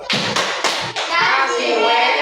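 Children clapping hands in a classroom, a few quick bursts of claps and then a longer stretch of fuller clapping, with young voices mixed in.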